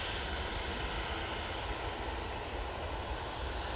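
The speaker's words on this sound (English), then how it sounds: "Jet2 737 coming on in front of us." A Jet2 Boeing 737 approaches near Manchester Airport, its engines giving a steady, loud, broadband roar that holds evenly throughout without a break.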